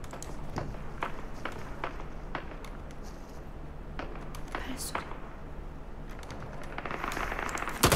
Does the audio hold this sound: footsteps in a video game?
yes